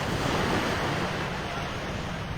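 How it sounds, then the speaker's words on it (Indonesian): Ocean surf rolls continuously onto a beach near Pasar Cekkeng in Bulukumba, South Sulawesi, Indonesia, at sunrise, a loud steady wash of waves with wind and no voices. "Lela, pantai dekat Pasar Kekeng di daerah Sulawesi Selatan, Indonesia."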